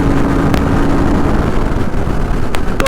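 A Royal Enfield Interceptor 650 with alloy wheels runs fast along an open expressway stretch at around 140 to 160 km/h, producing a loud, steady engine and wind roar with a few brief sharper sounds near the end.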